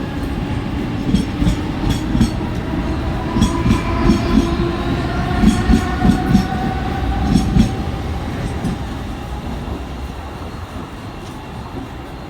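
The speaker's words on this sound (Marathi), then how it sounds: "प्लॅटफॉर्म क्रमांक 2 वर आलेली लोकल 7 वाजून 1 मिनिटाची मुंबई" A Mumbai local train rumbles loudly through Diva junction railway station at night, its wheels clattering in a steady clickety-clack with faint squeals as the run gradually eases off.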